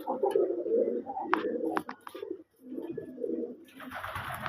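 Pigeons coo in low, throaty rolling calls close by, several overlapping phrases with brief pauses, joined near the end by a rustling burst like fluttering wings.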